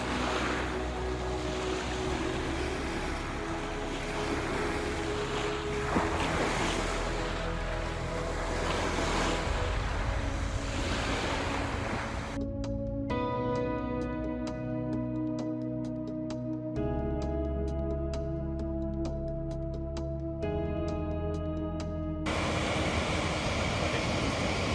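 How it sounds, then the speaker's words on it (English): Snoqualmie Falls near Seattle, Washington, a loud continuous roar of rushing water and wind noise, broken midway by a stretch of plucked melodic music, with no talking. "Today we are at Snoqualmie Falls Park."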